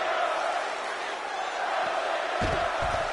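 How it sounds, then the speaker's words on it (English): A crowd at a championship wrestling match in Anchorage cheers in a steady, continuous roar that fills the arena, with a few dull thumps near the end. "As the crowd here in Anchorage is behind Dolph Ziggler in this championship contest"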